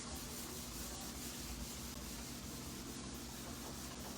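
A nylon brush spinning on a drill buffs the base of a waxed ski to a shine, a steady close rubbing whir with no break from start to end.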